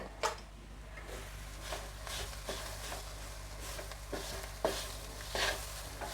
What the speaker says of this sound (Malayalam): ഞാൻ കുറച്ചും കൂടി കറിവേപ്പില ഇട്ട് കൊടുക്കുന്നുണ്ട് കേട്ടോ എന്നിട്ടൊന്ന് ഇളക്കി കൊടുക്കുന്നുണ്ട്